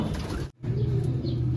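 A racing pigeon coos in low, soft, rolling throbs close by, with a brief gap of silence partway through and a faint hiss in the background.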